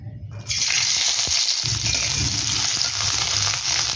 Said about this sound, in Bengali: এবার ওই তেলে প্রথমে আমরা উচ্ছেগুলোকে ভেজে নেব।